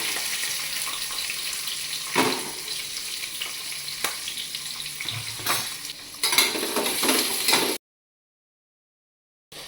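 Chopped onion, garlic and ginger sizzle steadily in a hot pan for a dal khichdi, a continuous close frying hiss with occasional stirring scrapes, then it cuts off.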